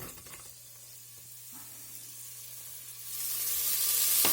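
Onion drops into hot olive oil in a pot for a vegetable soup, starting with quiet pan hiss that swells into a loud, bright, steady sizzle by the end.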